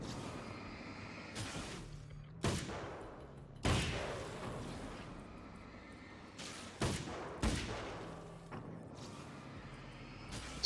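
Rifle gunfire in the video game Alan Wake's American Nightmare, a distance rifle fired in several sharp, loud reports spaced a second or two apart over a steady rumbling background.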